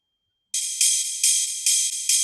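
A ride cymbal sample in a hardgroove techno track, played as steady, evenly spaced bright metallic washes that start after a short silence and repeat about twice per second, each hit ringing into the next.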